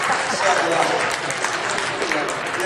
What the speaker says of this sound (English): You heard all this applause